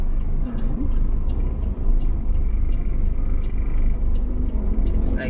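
A car drives across a road, its engine and tyre rumble steady and fairly loud throughout, with faint regular ticking above the low roar.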